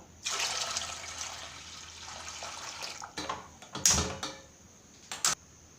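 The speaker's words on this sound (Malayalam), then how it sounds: "1/2 ലിറ്റർ തന്നെ വെള്ളം ഒഴിക്കുന്നുണ്ട് കേട്ടോ" Half a litre of water pours steadily into milk in a pot for a few seconds, then a few short splashes and clinks follow.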